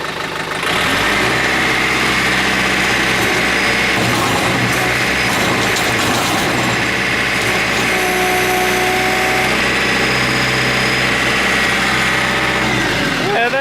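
A vehicle engine runs close and loud, starting from a low idle before settling into a raised, steady drone with a slight rise and fall in pitch.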